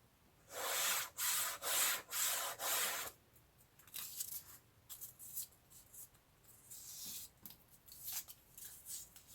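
Sandpaper rubbed against the edge of a jeweler's bench pin in rhythmic strokes, a series of loud scrapes at first, followed by quieter, irregular rubbing.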